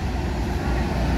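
Heavy road traffic crowded with buses during the holiday homecoming rush, with a Mobil 50 SR3 Panorama bus among them: a steady, close engine rumble with dense low-end noise and no clear peaks, under loud talking.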